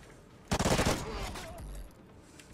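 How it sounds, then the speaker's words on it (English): Burst of submachine gun fire in Call of Duty Ghosts gun game multiplayer, a rapid rattling volley around half a second long, then softer game noise and a sharp single pop near the end. "With a pistol, sorry, submachine gun."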